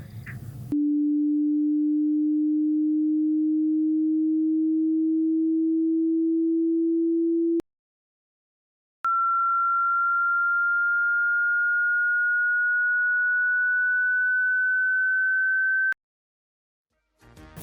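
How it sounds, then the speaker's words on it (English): Two pure sine test tones play one after the other: a steady low hum for about seven seconds, a short silence, then a higher, slightly rising tone for about seven seconds, both alone and at the same level. "Here are a couple of sounds at different Hz."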